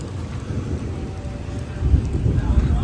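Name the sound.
rain falling in Medina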